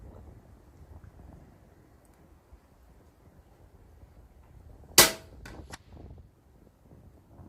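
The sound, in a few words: air rifle firing pellets in the wind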